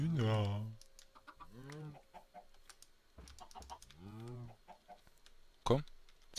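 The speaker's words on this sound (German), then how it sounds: "Hühner." Minecraft chickens cluck in several short bursts, close and quiet, with computer keyboard clicks scattered between them.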